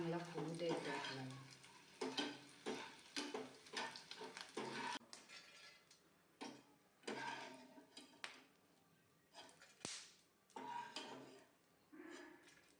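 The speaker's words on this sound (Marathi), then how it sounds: "तुपामध्ये डिंक चांगला फुलू द्यायचा आहे आपल्याला." Edible gum frying and puffing in ghee in a pan for peanut chikki, soft sizzling with repeated stirring scrapes and light clinks of a utensil, close but quiet with no voice.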